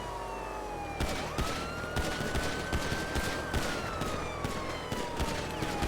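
Rapid gunfire crackles through a police shootout in a GTA roleplay game, dense repeated shots over a wailing police siren that rises and falls throughout, loud and close, with almost no talking.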